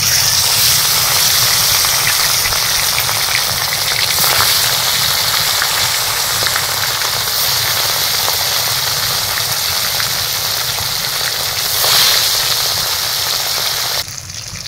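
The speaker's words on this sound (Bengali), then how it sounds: "লেজ ভর্তার জন্যে ইলিশের লেজগুলো ভেজে নেব।" Hilsa fish tails fry in hot mustard oil, giving a loud, steady, dense sizzle that holds unbroken throughout with no voices.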